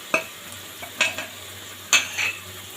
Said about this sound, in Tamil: அதையும் சேர்த்து நல்லா வதக்கணும்